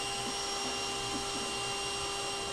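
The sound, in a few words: vacuum sucking bees off laundry room ceiling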